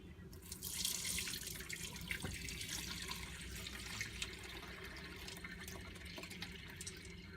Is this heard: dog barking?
no